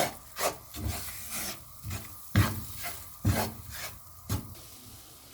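A spoon or spatula stirring flour and cauliflower with chicken as they roast in a pan, rhythmic scraping and rubbing strokes repeating about once a second, close and clear.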